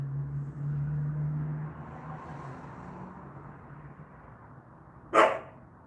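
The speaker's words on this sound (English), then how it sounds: "Why are you barking at me?" A single sharp dog bark rings out near the end, following several seconds of low steady background rumble.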